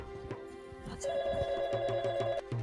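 A telephone bell rings in repeated bursts, loud and close, with a brief muffled sound before the ringing starts.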